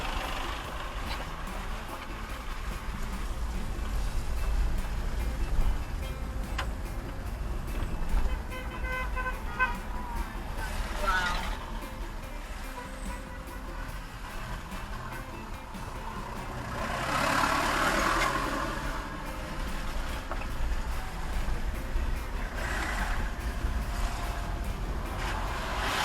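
Road traffic jam on the South Coast Highway in St. Thomas, Jamaica: idling cars and trucks rumble steadily, with occasional horn toots and engines swelling as vehicles pass, and someone talks now and then over the traffic.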